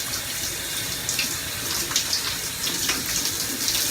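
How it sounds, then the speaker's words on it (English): A running shower sprays steadily, a dense continuous hiss of water close by with small splashy fluctuations throughout and no talking. "I'm trying to shower at the same time."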